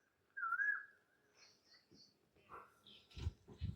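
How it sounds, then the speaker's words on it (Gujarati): An Asian koel calls at a farm field, a faint rising whistled note followed by sparse higher calls, with soft thumps near the end and no talk. "કોયલ બોલે છે મસ્ત."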